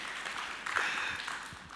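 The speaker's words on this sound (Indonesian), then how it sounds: "Tepuk tangan bagi Allah kita." Worshippers clap during a Sunday church service, a brief, quiet patter of congregational applause that swells slightly partway through before easing off.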